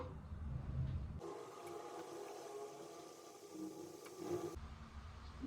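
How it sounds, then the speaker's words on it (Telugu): Badusha dough drops into hot oil for deep frying in a home kitchen, setting off an even, close hissing sizzle that starts abruptly, holds for about three seconds and then cuts off. "ఆయిల్ హీట్ అయింది, నేను యాడ్ చేసేస్తున్నాను"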